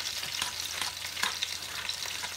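Fried Danish sausage gravy stirred over low heat, with a soft continuous sizzle and gentle rhythmic scraping strokes, fairly quiet and close, no speech.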